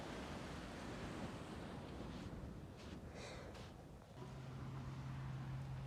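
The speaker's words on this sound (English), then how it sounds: "Look how close the sea is." Sea surf breaks close by on an eroding shoreline at Port Royal, a steady loud wash of waves blended with gusting wind noise on the microphone, with a low steady hum toward the end.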